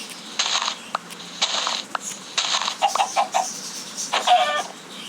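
Minecraft chickens cluck in short, repeated bursts, several close clucks in an irregular rhythm with brief pauses between.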